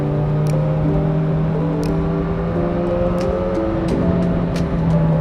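Honda CB1000R Black Edition motorcycle exhaust rumbles steadily up close on a coastal road at night, its deep tone shifting slightly in pitch, with occasional sharp ticks above the engine note.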